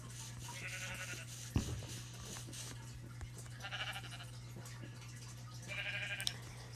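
Sheep bleating in the Minecraft video game, three short bleats spaced a couple of seconds apart over a steady low hum, with a sharp thud in between.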